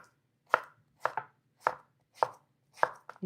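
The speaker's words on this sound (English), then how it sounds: "all I'm doing is cutting the mangoes" A knife chops through mangoes on a cutting board, about six crisp, evenly spaced knocks, close and clear against a quiet background.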